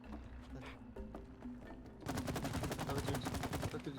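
Gunfire in the co-op video game It Takes Two during the toolbox boss fight: a quieter stretch, then a dense, rapid burst of repeated shots filling the second half.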